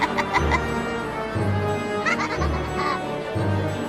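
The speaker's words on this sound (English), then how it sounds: "The young woman goats giggled" Goats giggling in a visual-novel sound effect: a string of bleating, laugh-like bursts with low, sustained voiced tones that recur at regular intervals over a busy, loud background.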